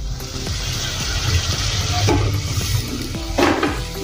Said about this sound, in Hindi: पहले हम इसमें आलू डालेंगे।